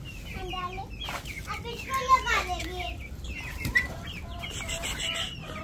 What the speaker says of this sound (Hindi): मुर्गी बोल रही है, मुर्गी तो बोलती रहती है बेटे।